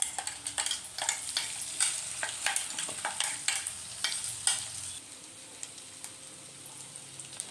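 Semolina balls sizzle in a hot tempering pan while a spoon stirs and scrapes them in irregular strokes, the frying crackle steady and close, then thinning to a softer hiss.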